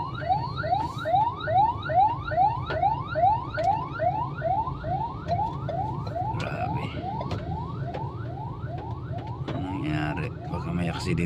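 An ambulance siren wails in heavy two-lane street traffic, a fast rising whoop that repeats steadily and loudly over an engine rumble before fading into mixed street noise with talk.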